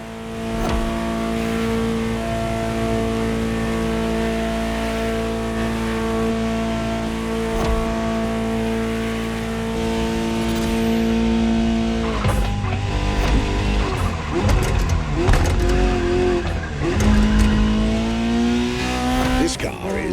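A Ferrari 288 GTO drives in the video game The Crew Motorfest, its engine holding a loud, steady drone before rising and falling through sharper revs and gear changes near the end.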